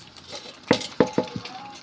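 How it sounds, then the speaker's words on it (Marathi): Bitter gourd being added to frying masala in a pan, heard as a few close knocks and scrapes of pieces and a spoon against the pan over a soft sizzle, with no talking. "आता हे याच्यामध्ये मी जे कलसून घेतलेत कारले ते टाकणार आहे."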